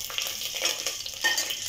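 Curry leaves, two bay leaves and a piece of cinnamon sautéing in oil in a pressure cooker, a continuous close sizzle with brief stirring scrapes and crackles, no talking.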